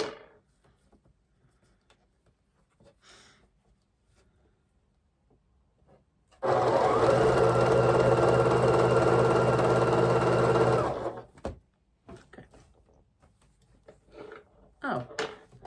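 A sewing machine stitches quilt blocks made from leftover half-square triangles and charm squares in one close, steady burst of about five seconds, with quiet talk before and after.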